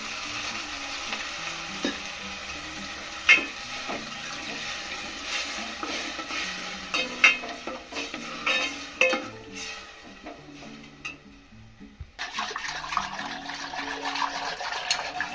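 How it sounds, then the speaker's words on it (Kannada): Curry leaves, garlic and a ground paste fry in a pan for buttermilk sambar, giving a steady sizzle broken by clattering utensil scrapes and knocks; the sizzle swells louder near the end. "ಕರಿಬೇವಿನ ಸೊಪ್ಪು ಬೆಳ್ಳುಳ್ಳಿ ಮತ್ತು ರುಬ್ಬಿರೋಂಥ ಅಂತ ಸೇರಿಸ್ಕೋಬೇಕು"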